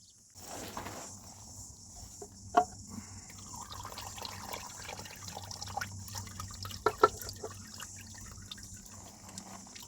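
CVT transmission fluid drains from a 2014 Nissan Juke 1.5L as the filter comes off, a steady trickle and dripping into a catch container, with occasional sharper splashes and clinks.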